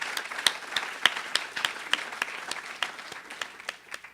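Applause from a modest audience at a University of Dayton MEP 20th-year celebration evening, with individual claps standing out distinctly in an uneven, moderately loud patter and no talk over it.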